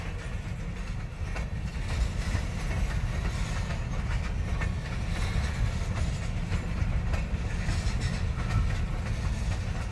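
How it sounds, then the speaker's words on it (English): A long train rolls past on rail tracks, a steady loud rumble with faint clickety-clack from the wagons, continuous throughout with no talking. "He's had an amazing day watching trains."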